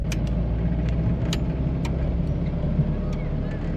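A 1969 Mazda Carol's small engine drones steadily from inside the car as it drives and slows to pull in, with a few faint clicks and a voice speaking over it.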